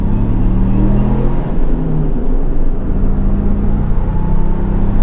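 A 2022 Ford Maverick or Ford Bronco accelerates hard at full throttle, a loud, close engine drone with a steady rising rumble that fills the whole stretch without talk.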